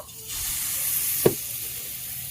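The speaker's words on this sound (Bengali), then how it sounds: "গরম হয়ে গেলে এখন আমি পিঠার ব্যাটারটা দিয়ে দেব" Pitha batter poured into a hot, oiled kadai sets off a steady, close sizzle, with a single sharp splash as the batter lands. No one speaks.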